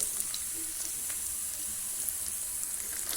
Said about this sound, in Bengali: আদা রসুনের পেস্ট, দিয়ে এটা পুরোটা একসাথে মিক্স করে একটু ভাজবো